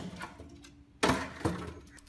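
A PVC slingshot bow fires a nail into a block of styrofoam, giving one sharp, close snap and thud followed by a softer second knock, set against a quiet background.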